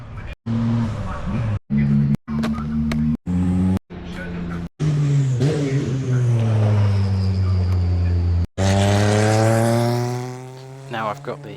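Historic race cars pass at Brands Hatch circuit along the finishing straight toward the first corner, engines rising and falling in loud pitch sweeps as they go by, interrupted by brief gaps, with crowd noise around.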